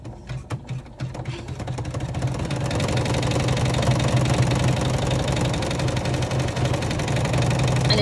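A sewing machine stitches a vinyl clutch seam, a few separate needle thumps at first, then a loud, steady rapid clatter running continuously to the end.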